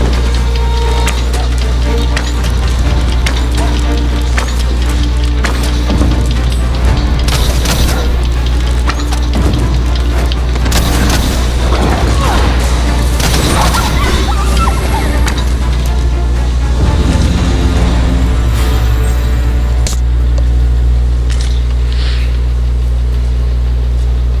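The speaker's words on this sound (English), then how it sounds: "this ox cart has been destroyed" A wooden ox cart splinters and breaks apart in Dragon's Dogma 2, with crunching wood impacts and booms over a loud, steady low rumble, and no talking.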